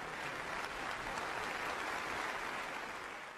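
Sustained applause from a large audience welcoming the Pope, a soft, even wash of many hands clapping, heard from a distance.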